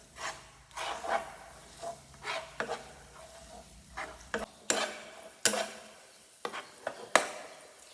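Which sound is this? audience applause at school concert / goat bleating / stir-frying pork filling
stir-frying pork filling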